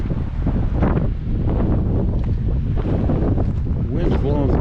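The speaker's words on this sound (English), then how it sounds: "The wind's blowing pretty good. I mean, the wind comes up the canyon walls and you get these breezes." Gusty wind sweeping up the rock walls of Buck Canyon in Canyonlands National Park, buffeting the microphone in a steady loud rumble throughout, with a voice speaking over it.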